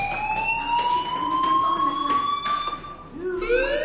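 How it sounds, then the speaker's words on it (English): A school fire alarm rings in the video game Life is Strange, a steady high-pitched electronic tone with harmonics that holds for several seconds, then drops away and rises again with a brief sweeping wail near the end. "Hey, do you hear that fire alarm?"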